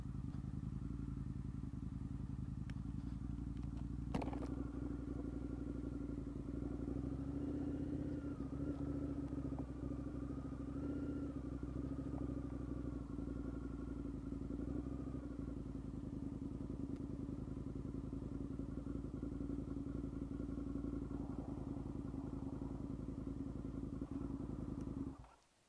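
An Indian FTR 1200 motorcycle idles beside a lake, its engine a steady low rumble with a few blips of throttle and a short clack near the start, then cutting off abruptly at the end.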